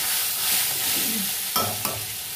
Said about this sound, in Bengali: এঁচড় অনুযায়ী তেল দিতে হয়। এঁচড়টা ভাজা হবে